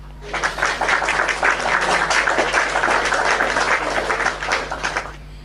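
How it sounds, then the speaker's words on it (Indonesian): Audience applause during a live online interfaith debate stream, a steady dense wash of clapping lasting several seconds at a fairly loud level with no talk over it. "Tepuk tangan dulu kawan-kawan."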